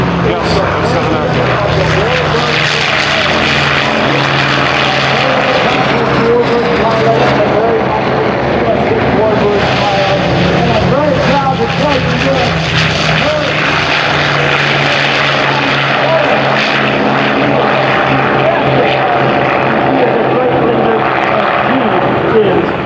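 Twin-engine propeller aircraft built for the Navy and Marine Corps flying past at the Oshkosh AirVenture airshow, a loud continuous engine drone that swells and fades, with someone talking over a PA throughout.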